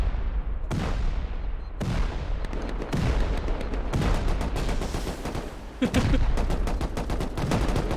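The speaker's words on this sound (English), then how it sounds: "Oh, they're shooting each other" Rapid gunfire from the video game Rust, with repeated volleys of sharp shots and automatic bursts in quick succession, loud and close, with short gaps between salvos.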